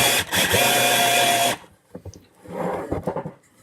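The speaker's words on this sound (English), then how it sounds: "that's a 12-volt drill driving in a 4-inch lag" A Ridgid 12-volt drill drives a 4-inch lag screw into wood, a loud sustained whirring grind that cuts off abruptly, then short stuttering bursts and rattles as the screw is finished.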